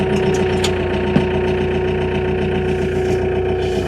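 A John Deere engine idles steadily at close range with a constant mechanical hum and a faint knocking rhythm, one brief clunk partway through, no talking.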